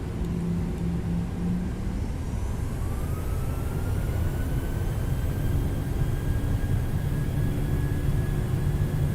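Simulated PMDG 737-800 jet engines in Microsoft Flight Simulator spool up to takeoff thrust, a loud, steady roar with a whine that rises in pitch, heard without talk.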